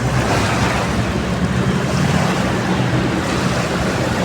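Loud, continuous surf washing against the shore, a dense roar of breaking water with wind buffeting the microphone throughout.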